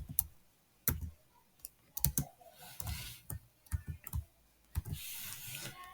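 Computer keyboard typing while a GST purchase tax template is set up in ERP software: irregular bursts of close, crisp key clicks with short pauses between, no voices.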